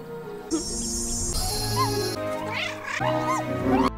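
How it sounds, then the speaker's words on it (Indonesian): A wild cat meows several times in rising, wavering cries over a steady background of music and noise. "induk kucing hutan meminta bantuan Mafka nih menyelamatkan anaknya yang kakinya terjepit perangkap."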